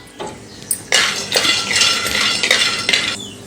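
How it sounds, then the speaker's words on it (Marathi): Peanuts being dry-roasted and stirred in a pan for masvadi: a spoon scrapes and clinks against the metal while the nuts rattle and skitter, close and loud, in continuous irregular strokes. "आता आपण यामध्ये शेंगदाणे भाजून घेऊया"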